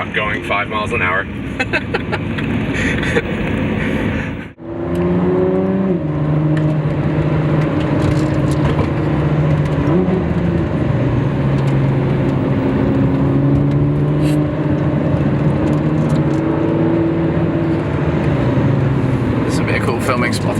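A Ford GT is driven on a rough mountain road, its engine droning loud and close, with pitch rising and falling through gear changes and a sharp wastegate whoosh between them. People talk inside the car.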